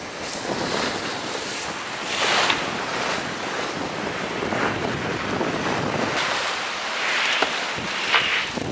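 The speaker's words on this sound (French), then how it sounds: "Toujours beau là, une mer démontée." Rough, heaving sea around a sailboat under way in strong wind, with loud continuous wind roar on the microphone and repeated surging wave washes over nearly nine seconds, no voices.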